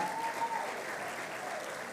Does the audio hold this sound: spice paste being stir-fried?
no